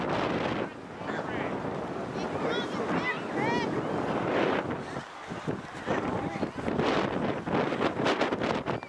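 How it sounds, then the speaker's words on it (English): Strong wind buffeting the microphone on an outdoor soccer field during a youth game, a steady roaring rumble with gusts, while children and adults shout and talk throughout. "Eric, there's a lot of wind pushing from the left."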